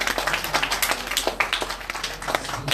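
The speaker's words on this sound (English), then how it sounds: "please give Anthony a round of applause for encouragement." Audience applause breaks out, a dense patter of many hands clapping at moderate distance, steady for a few seconds with no voices over it.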